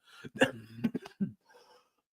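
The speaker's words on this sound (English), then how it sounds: "I've been coughing all day today" Someone nearby coughs and clears their throat in a short cluster of rough, voiced bursts, then a soft breath trails off into quiet.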